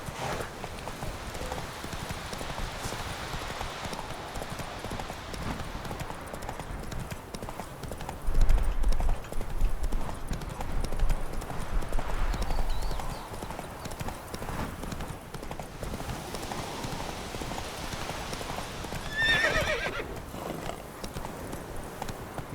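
Horse hoofbeats clip-clop steadily through The Witcher 3 game audio, rising briefly louder midway, with a short whinny-like burst near the end over continuous game ambience.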